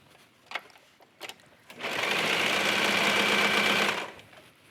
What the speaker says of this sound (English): I like to start at the top and stitch down for all of these